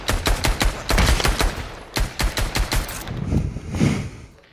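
Rapid bursts of gunfire in a VR shooter game ring out loud and close, a steady string of sharp repeated shots followed by a few deeper booming blasts, with no talking.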